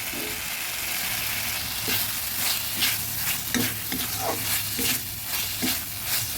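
Tomato and spices fry in a pan with salt, a continuous close sizzle broken by regular scraping strokes of a spatula stirring, several in a row, with no voices.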